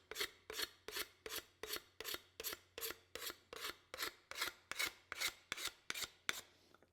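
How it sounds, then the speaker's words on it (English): A card scraper is pushed across wood in rapid, evenly spaced rasping strokes, about fourteen crisp scrapes in a regular rhythm, close and clear with no voices. "watch how fast I can corner around this thing with a scraper."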